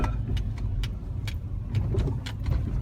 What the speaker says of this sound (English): the rotor and brake caliper grinding against each other